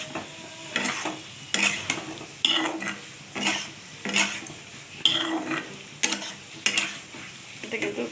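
Eggs are stir-fried with prawn paste in a pan, with a steady rhythm of about a dozen scraping strokes from a utensil over a soft, ongoing sizzle, heard up close.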